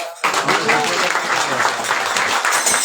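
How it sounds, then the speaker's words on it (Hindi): An audience at a Hindu kirtan house program in Delhi bursts into loud, sustained clapping that starts abruptly after a brief voice and holds steady and dense to the end. "एक बार ताली बजाओ वृंदावन"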